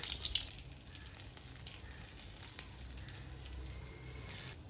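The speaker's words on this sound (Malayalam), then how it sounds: "ഫില്ല് ചെയ്ത് വെച്ച വഴുതിനങ്ങ ഓരോന്നോരോന്നായിട്ട് എടുത്ത് പാനിൽ വെച്ച് കൊടുക്കാം" Stuffed brinjals laid one by one into a pan with grated coconut scattered over them, frying with a soft, steady sizzle and a few faint crackles and clinks, quiet and continuous with no talking.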